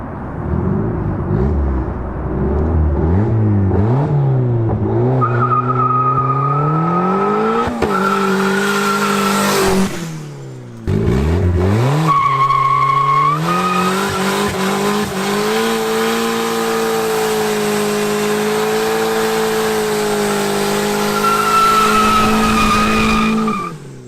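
A turbocharged Honda D16-engined car revs hard with squealing tires, engine pitch climbing and falling in repeated sweeps, a brief cut-off near the middle, then sustained high revving with tire screech, loud and close.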